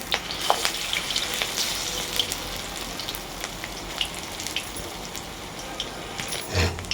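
Onion pakoras (piyaji) fry in hot oil in a wok, giving a soft, continuous crackle and sizzle with small pops throughout.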